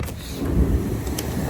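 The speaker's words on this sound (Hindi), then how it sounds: "अपने बारिश शुरू हो चुकी है, बिजलियाँ कड़क रही हैं" Thunder rumbles low and heavy through steady pouring rain in a severe storm, a deep swell building in the middle of the short stretch with no voices.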